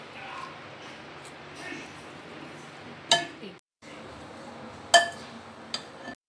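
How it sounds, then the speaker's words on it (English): A utensil tossing vegetable pasta salad in a bowl gives a soft, steady stirring rustle, broken by two sharp clinks against the bowl a couple of seconds apart. "Now you have to mix everything like this."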